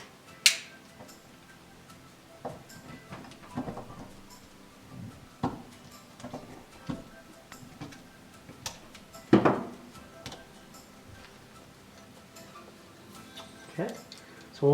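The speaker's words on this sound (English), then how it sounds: "We do need to cut this rubber off" A knife cutting rubber off a solid steel shifter turret makes sparse clicks and scraping knocks at uneven intervals, close and fairly quiet, with a few sharper snaps among softer rubbing sounds.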